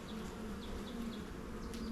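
A honey bee swarm hums steadily close by, the low droning buzz rising and falling slightly, with a few individual bees whining past; no voices.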